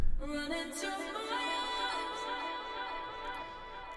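A sung vocal phrase in an ambient downtempo track, drenched in convolution reverb and delay so it blurs into a sustained, shimmering wash of overlapping tones that holds steady and fades slightly over a few seconds.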